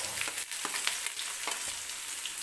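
Finely chopped onion tipped into hot oil with cumin seeds for a tempering, giving a steady close sizzle with a few sharp crackles and stirring scrapes, no voices.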